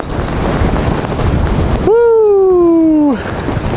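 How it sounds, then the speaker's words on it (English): Steady gusting wind on a frozen lake roars and buffets the microphone, with a brief, clear tonal hoot rising over it midway before the rushing wind returns. "It's a little windy out here."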